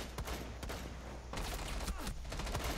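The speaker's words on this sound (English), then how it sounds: "someone's shooting at me from first floor" Gunfire in Rainbow Six Siege, a rapid crackling fusillade of shots, fairly faint and continuous throughout.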